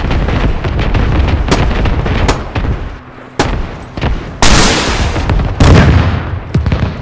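Loud video game gunfire in a vehicle battle, sharp repeated shots and heavy booms hitting in irregular bursts with brief lulls, ending in powerful blasts.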